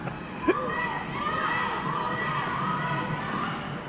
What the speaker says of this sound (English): I heard the crowd telling her to call it